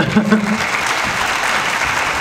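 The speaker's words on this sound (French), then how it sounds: "bienvenue, on peut l'applaudir." Audience applause at a cinema screening in the Cinémathèque suisse, a loud, dense burst of many hands clapping, steady and close throughout with a brief voice at the very start.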